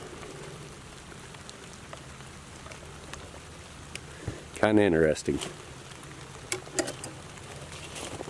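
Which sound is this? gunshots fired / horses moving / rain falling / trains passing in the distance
rain falling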